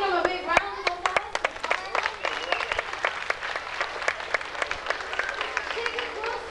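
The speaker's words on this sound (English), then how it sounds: "How about giving him a big round of applause?" A crowd at a 1991 dolphin show at Marineland Florida applauds steadily and fairly loudly for several seconds, with sharp individual claps standing out from the dense clapping.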